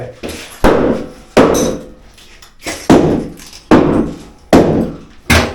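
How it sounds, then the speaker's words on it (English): Sharp hammer blows strike hard bathroom wall tile at a steady pace, about seven loud hits, each with a crunching crack and clatter of breaking pieces. "Alright, so the hammer will do all the work"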